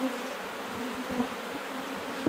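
A cluster of honeybees hanging outside an opened hive makes a steady, dense buzz, close and continuous, with no voices.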